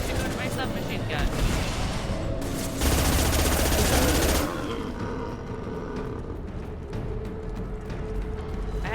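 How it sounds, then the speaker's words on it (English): Submachine gun fire in the Mass Effect 2 video game, with loud sustained bursts and rapid rattling volleys, a heavy continuous stretch in the middle, and game voices speaking over the action. "I had to go to the submachine gun."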